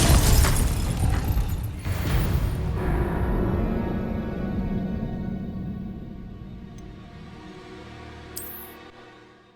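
In Hogwarts Legacy, an Incendio fire spell goes off as a loud fiery burst, then leaves a long rumbling tail that slowly fades, with a brief bright chime near the end.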